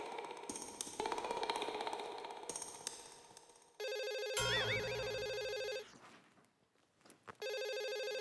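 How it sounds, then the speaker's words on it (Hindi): A telephone rings in a home during a Taarak Mehta Ka Ooltah Chashmah comedy scene, its electronic ring pattern sounding loud and clear in bursts after a stretch of shuffling and background noise. "फोन तो उठाइए।"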